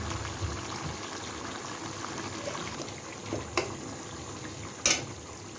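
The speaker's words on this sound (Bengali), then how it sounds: "এখন আমি দিয়ে দেবো এর মধ্যে চিকেনগুলো" Chicken pieces going into a kohlrabi curry cooking in a pot: a continuous bubbling, hissing simmer with two sharper splashy knocks near the end, no talking.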